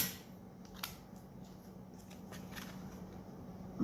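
Scissors snipping out paper tree shapes stamped in polished pink ink for a Christmas card, a series of soft, faint close cuts and paper rustles with no talking.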